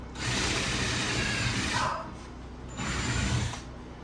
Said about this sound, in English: We are going to drill that through.